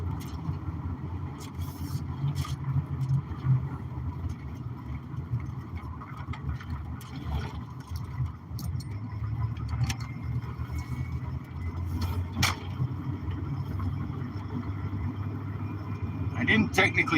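An Isuzu Hombre pickup, Chevy-based underneath and fitted with aftermarket wheels and tires, drives with a low, steady engine drone and road rumble beneath ongoing talking.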